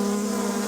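Honeybees buzz in a dense, steady drone around an open hive, the sound close, loud and unbroken throughout the brief moment.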